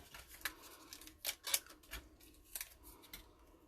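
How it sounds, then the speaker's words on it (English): Scissors snip a paper butterfly out by hand for a card-making craft project, a series of quiet, irregular close cuts with short pauses between them and no talking. "I will fussy cut that out."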